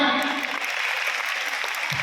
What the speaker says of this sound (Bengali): আচ্ছা, একটু জোরে হাততালি দাও।